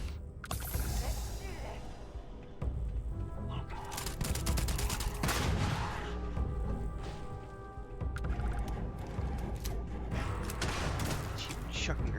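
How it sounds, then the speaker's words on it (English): Grenades going off in the video game Starfield, with repeated heavy blasts and bursts of gunfire layered over a dense, noisy battle that lasts throughout. "Keep chucking grenades at me, man."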